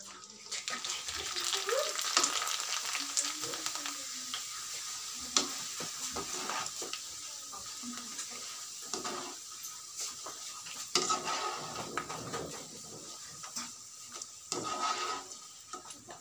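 Papad dropped into hot oil, frying with a bright, busy sizzle and crackle that rises and falls over about sixteen seconds, with occasional scraping stirs and bubbling bursts.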